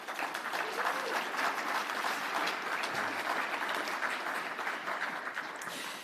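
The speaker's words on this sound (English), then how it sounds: "what about a round of applause for everybody who has entered in innovation this year?" Sustained audience applause fills an awards evening for innovation entrants at Fieldays, a dense, steady wash of many hands clapping at even loudness throughout, with no voices standing out.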